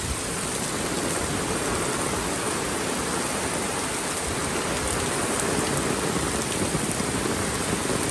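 Steady rain pours down on a farm, a dense, even hiss of drops hitting surfaces that continues unbroken and fairly close.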